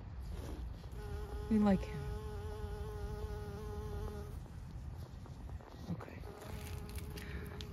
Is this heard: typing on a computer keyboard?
no